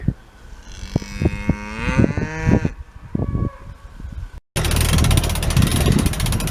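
Farm cattle moo loudly and close by on an island in the Vava'u archipelago of Tonga, a long drawn-out low call followed by a shorter one, then wind or engine noise.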